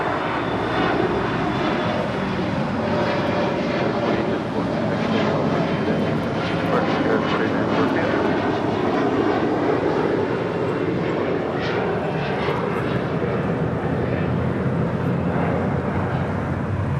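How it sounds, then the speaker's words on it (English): Asiana Airbus A380 taxiing toward the gates on the south side of LAX: a steady, heavy engine drone that holds at an even level throughout, with a voice talking over it. "Asiana A380 now heading to the gates here on the south side."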